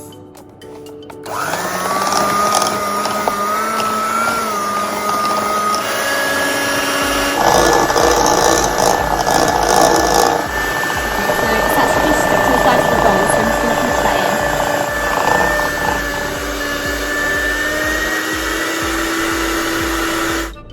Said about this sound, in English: add that in until light and creamy. So I'm just gonna whisk this.